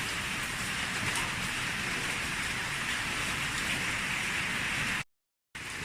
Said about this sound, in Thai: ตอนนี้ฝนตกนะคะตอนนี้